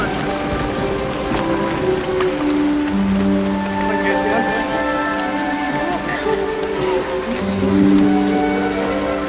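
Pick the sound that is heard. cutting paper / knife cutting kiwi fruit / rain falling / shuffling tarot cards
rain falling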